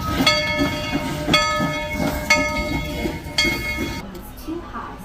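A Tweetsie Railroad excursion train pulling in at the amusement park, with rhythmic clanking and rumbling wheels, a few sharp horn or whistle-like tones, then fading out, heard close with crowd noise around it.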